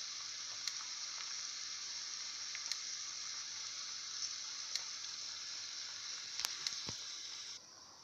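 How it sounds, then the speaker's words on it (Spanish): Two eggs frying in a pan over bacon, a steady close hiss of sizzling oil with a few sharp crackles and pops, fairly quiet, no talking. "le he echado dos huevecitos aquí encima y voy a esperar a que se cuaje bien"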